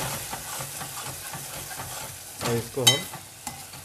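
A quail curry base of onion, garlic and spices fries and is stirred in a pan, with steady sizzling and scraping stir strokes. A clatter of utensils comes near the end, and a voice speaks briefly over it.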